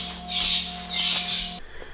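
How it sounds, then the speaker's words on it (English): Birds call repeatedly in the wild at Mapungubwe in Limpopo during the wet season, with bright squawking bursts rising and falling over a steady low background hum. "the bird calls just don't stop here"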